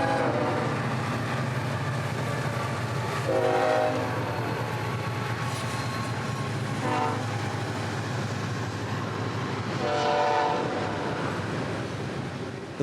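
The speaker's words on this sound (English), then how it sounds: "336 pounds over the bridge with a short train of loaded aggregate" A Florida East Coast Railway freight train hauling loaded aggregate rolls over a bridge with a steady heavy rumble, and several long horn blasts sound in turn.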